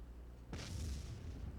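An explosion sound effect in a video game: a sudden loud boom after a brief quiet start, then a rumbling, hissing decay with no voices.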